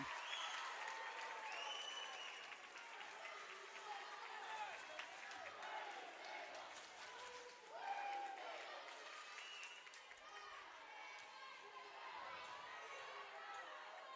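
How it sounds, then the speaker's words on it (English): A Barnstable student crowd cheers at a varsity volleyball game, making a continuous roar of shouting, clapping and chatter that fills the whole stretch at a steady level, with voices mixed in throughout. "Barnstable student body crowd a little loud right now"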